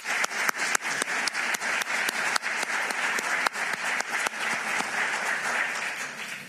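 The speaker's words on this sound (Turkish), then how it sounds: "ayrıca hepinizin huzurunda onu alkışlıyorum" An audience at a speech event claps loudly and steadily, with many hands blending into dense applause and sharp individual claps close by standing out throughout.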